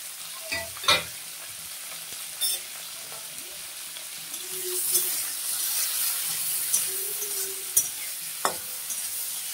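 Shrimp, jackfruit seeds, garlic and green chili fry in hot oil, a steady close sizzle broken by several sharp clinks and scrapes of a spatula stirring the pan.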